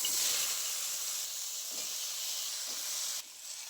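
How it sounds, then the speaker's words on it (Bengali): Cut pumpkin and potato sizzle in hot oil, a loud, dense, steady hiss heard up close that continues throughout without any voices. "একই তেলের মধ্যে আমি দিয়ে দিচ্ছি আগে থেকে কেটে খুব ভালো করে ধুয়ে রাখা মিষ্টি কুমড়ো আলু।"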